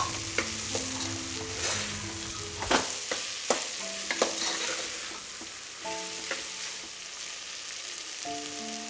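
Fried prawns stirred into sizzling biryani masala in a pan, a continuous frying hiss punctuated by repeated spatula clanks and scrapes against the vessel, with a faint tonal hum in the background.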